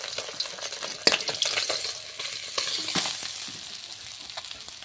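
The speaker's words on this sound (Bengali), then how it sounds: "মাছ ভাজা হয়ে গিয়েছে" Pond bata fish frying in oil in a pan, with a steady close crackle and sizzle broken by the clicks and scrapes of a turning spatula, no voices.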